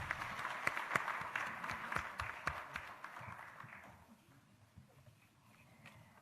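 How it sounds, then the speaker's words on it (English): Audience members at an African regional development forum for a telecommunications conference clap in a brief round that gradually tapers off into quiet room tone. "Can we please give her another round of applause?"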